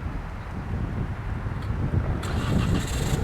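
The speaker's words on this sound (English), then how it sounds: "As you guys can hear, the vehicle will start up." A 2022 Nissan Rogue Platinum starts remotely: a low engine rumble and wind buffeting, then the engine catches about two-thirds of the way through and settles into a steady idle, fairly quiet and outdoors.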